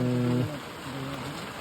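Constant rain patters and hisses throughout, with a low tonal hum fading out in the first half-second.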